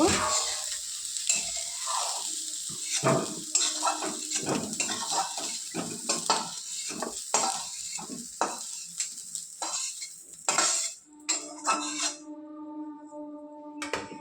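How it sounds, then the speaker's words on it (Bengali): Food fries in a pan until browned red, with a soft sizzle under frequent close scraping and stirring clinks of a utensil against the pan, then a brief ringing tone at the end. "দেখো লাল লাল করে ভাজা হয়ে গেছে।"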